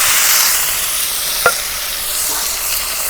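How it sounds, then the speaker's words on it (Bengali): Spices for a tempering sizzle steadily in hot oil while peas are stir-fried for a Bangladeshi gravy, a loud, close, continuous hiss with one brief clink of a utensil midway. "বাগার দিলাম।"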